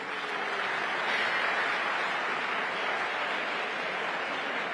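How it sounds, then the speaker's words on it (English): Audience at a school science quiz championship final applauding, a steady broadband wash of many hands clapping throughout, fairly even in loudness with no voices standing out. "Clap for me."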